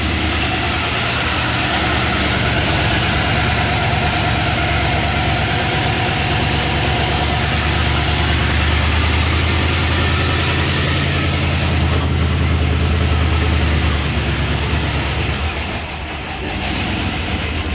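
Rough-running engine of a 1978 Chrysler Newport auction car, a loud, steady low rumble and idle throughout with slight unevenness and a brief dip near the end, no talking.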